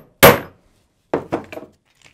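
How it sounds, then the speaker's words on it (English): A heavy hammer strikes a punch in a metal disc cutter: one loud sharp metallic blow, a pause, then three quicker clanging hits and a faint final tap, each ringing briefly in a quiet workshop. "I take my largest punch and put it in, and then with a heavy hammer,"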